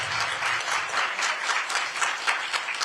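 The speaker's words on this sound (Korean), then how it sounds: "한 명만 실무자에게 박수를 더 부탁드리는데" Crowd applause at a Korean political party research institute event, a dense wash of clapping with individual claps standing out in an uneven rhythm, sustained throughout and fairly close.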